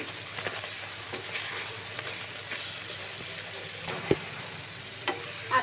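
Raw mango pickle with panch phoron spices cooking in a pan, a soft steady sizzle with a few small clinks and stirring knocks, fairly quiet.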